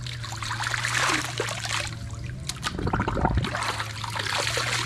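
Clean mountain spring water from Mount Banahaw is poured out for wild dogs to drink, a soft trickling and splashing under a steady outdoor hum, with a brief louder splash midway.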